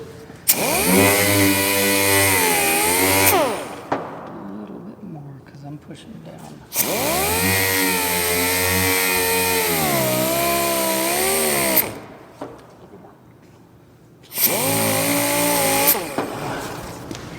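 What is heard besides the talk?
wet sanding with orbital machine sander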